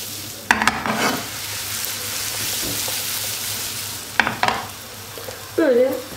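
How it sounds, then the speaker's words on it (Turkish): Flour-coated meatballs fry in a pan for a hearty soup, giving a steady close sizzle throughout while the pan is shaken a few times, with brief louder bursts of rattling and bubbling. "elekten geçirdiğim köfteleri içine katıyorum. Ve karıştırmıyorum. Sadece sallıyorum şöyle."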